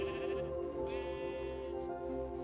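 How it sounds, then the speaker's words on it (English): Sheep bleating in the Minecraft video game, a steady, wavering bleat that carries on through the whole stretch over a dense bed of game music, with no one talking. "I just found 2 brown sheep back to back."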